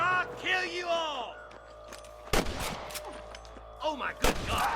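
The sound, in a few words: gunshots in a video game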